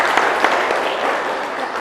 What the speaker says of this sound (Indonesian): Kita berikan aplaus untuk karya-karya.